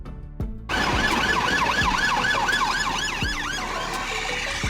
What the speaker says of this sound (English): This is a police patrol car,